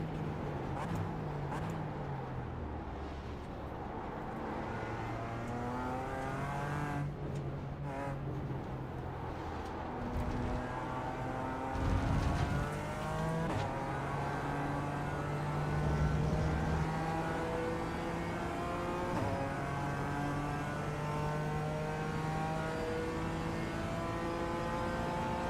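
Engine of a GT4 race car in iRacing at Indianapolis, held on throttle and rising through gears with repeated pitch sweeps, a steady close drone with one brief louder thump midway.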